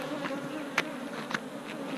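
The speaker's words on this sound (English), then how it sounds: "These are those nasty bees." Angry honey bees buzz steadily at an open hive during comb honey harvesting, a dense close drone with a few louder passes of individual bees flying near.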